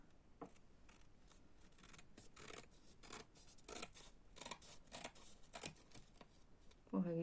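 Scissors snip through paper for a junk journal in a quiet room, a close, repeated series of crisp cuts in an irregular rhythm, with a louder rustle at the end.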